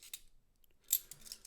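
Scissors snip twice through a Loomis paper coin roll wrapper holding half dollars, short crisp cuts close by with a quiet gap between them and no talking.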